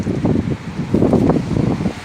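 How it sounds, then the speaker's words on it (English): Strong gusts during a November wind storm in Fredericton rush and buffet steadily, a dense, blustery roar with surging pulses over two seconds. "the wind seems to have died down and actually seems to have shifted"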